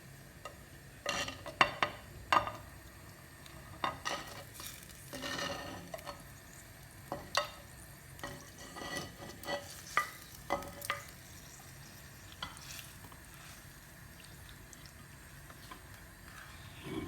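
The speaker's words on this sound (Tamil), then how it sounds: "இப்போ நான் மீன் போட்டேன்." Pieces of cut, washed fish go into a simmering Tamil-style fish curry in a pot, with scattered soft clinks and stirring clatters over a low, quiet bubbling simmer, no talking.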